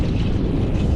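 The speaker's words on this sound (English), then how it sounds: "The wind is very strong" Strong wind roars and buffets a microphone on a mountain trail in Sweden's Kungsleden, a dense, loud, low rumble with no pause.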